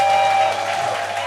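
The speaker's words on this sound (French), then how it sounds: "On fête aujourd'hui les 1 an, ça s'applaudit" Studio audience applauding for the first anniversary of an Ivorian TV channel, a brief dense wash of clapping at steady loudness over a low electronic hum.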